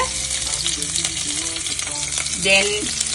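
Chopped garlic and green chillies fry in hot coconut oil in a pan for a Kerala canned fish curry, giving a steady, close crackling sizzle with occasional scraping stirs.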